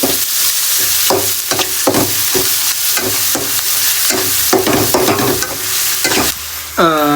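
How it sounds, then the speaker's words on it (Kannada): Spice mix with coriander powder fries in a pan while a utensil stirs it, producing loud repeated scraping strokes over a steady sizzle, with a brief ringing clink near the end. "ಇವಾಗ ಇದನ್ನು ಚೆಂದಾಗಿ ಮಿಕ್ಸ್ ಮಾಡ್ಕೋಬೇಕು, ಫ್ರೈ ಮಾಡಬೇಕು"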